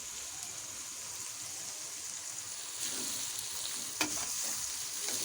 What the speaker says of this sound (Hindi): और इसको थोड़ा फ्राई करेंगे।